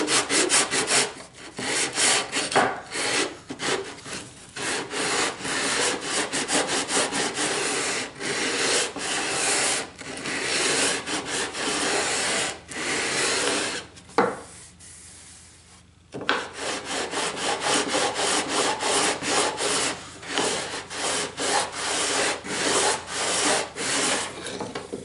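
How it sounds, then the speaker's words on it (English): Steady back-and-forth rubbing of a sander or sanding block on wooden end grain of table skirt stock, loud and continuous with rhythmic strokes and one brief pause midway, no talking. "this is how I'll sand that end grain"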